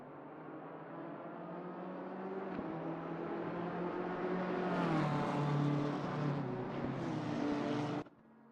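Race cars lap Bathurst in a racing video game, a continuous engine drone that builds and climbs in pitch toward the end before cutting off abruptly, heard alone without talk.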